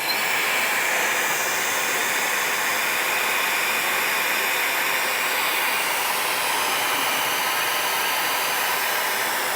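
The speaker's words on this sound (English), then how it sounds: "what happens when I turn the hair dryer on" A hair dryer blows continuously at full, even strength, a dense, loud rushing hiss with no change or pauses throughout.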